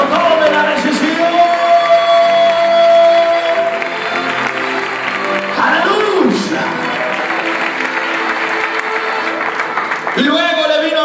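A church congregation applauds loudly with cheers and whoops, a dense sustained roar of clapping while a preacher's voice keeps speaking over it.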